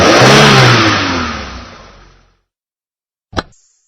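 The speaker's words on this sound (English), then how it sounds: "Let's race, says Mark." Cartoon race cars in a kids' story rev loudly and speed off, the roaring engine fading steadily into the distance over about two seconds, followed by a brief sharp sound after a short silence.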